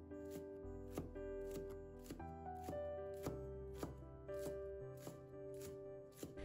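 A knife mincing scallion whites on a cutting board: a steady series of quick, even chops sounding over background music.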